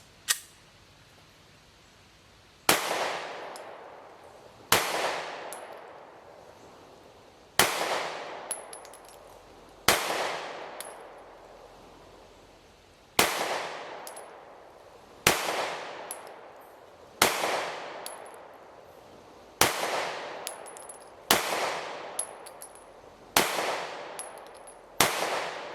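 Taurus GX4 XL pistol fired outdoors through a 13-round magazine: loud, sharp gunshots with ringing decay, spaced a couple of seconds apart at first, then coming faster toward the end, no talking.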